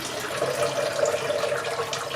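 Water from a Fluval 307 aquarium filter canister pours away in a continuous close splashing stream, steady and fairly loud for the whole moment, with no talking.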